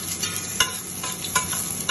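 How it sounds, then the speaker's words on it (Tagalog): Beef kare-kare being stirred in a pan, with a steady sizzle of frying and a couple of sharp spoon scrapes against the pan, close and moderately loud, with no talking. "ako ay galuto ng kare-kare baka"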